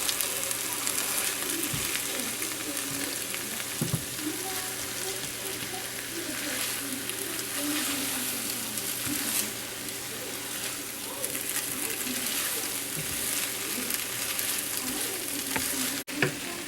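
Baked potatoes and eggs frying in a hot skillet on a burner, a steady close sizzle and crackle with occasional stirring scrapes, continuing evenly throughout with a voice talking intermittently over it.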